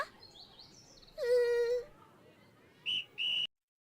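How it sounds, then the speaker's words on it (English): Whistle from an anime episode, Card Captor Sakura, sounding as a short warbling tone, then a longer steady held blast, then two brief sharp toots close together, all heard alone with no talk. "I'm guessing that's a whistle?"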